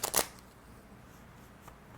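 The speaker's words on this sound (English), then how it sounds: "Just going to do a few more shuffling here." Tarot cards being shuffled by hand: two quick crisp riffles right at the start, then near silence apart from a faint later flick, close and soft, with no speech.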